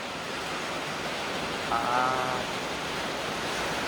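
Rain falls as a steady, even hiss of broadband noise, with a brief faint tonal sound rising over it midway.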